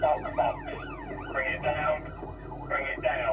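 Police car sirens wailing during a pursuit as patrol cars close in on a suspect vehicle: loud rising and falling siren sweeps, several overlapping, continuous throughout.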